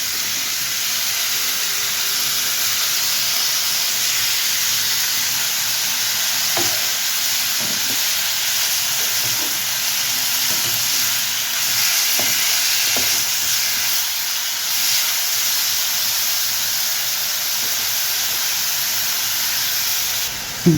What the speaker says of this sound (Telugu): టమోటా ముక్కలు కూడా వేసుకొని దగ్గరగా వేయించుకుందాము.